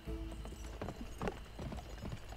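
Horse hooves clip-clop at a quick, uneven pace in the Western video game Gun, with moderately loud hoof strikes over faint background game sound.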